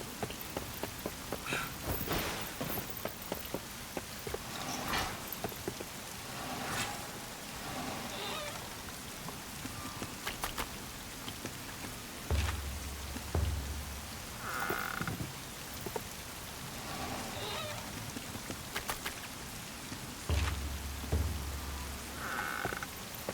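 Steady rain falls throughout a scene in the video game Wild Hearts, a continuous hiss of drops with soft rumbles and periodic croaking frogs against it, no voices.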